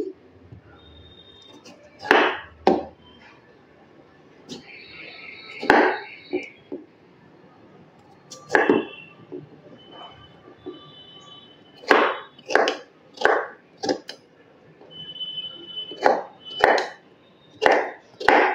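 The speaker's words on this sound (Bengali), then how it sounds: "চোচাটা না ছুলেই কিন্তু আমি শসাটা কাটবো। এইভাবে টুকরো করে দিচ্ছি।" Knife chopping an unpeeled cucumber into pieces for cucumber ice cream: about fifteen crisp, close cuts in irregular bursts, some in quick pairs, with a faint steady tone underneath.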